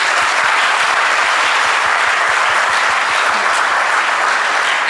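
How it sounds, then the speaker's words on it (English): A conference audience at a marketing conclave applauds its panelists, dense continuous clapping from a large crowd, steady and loud throughout with no talk over it. "Please give a huge round of applause for them."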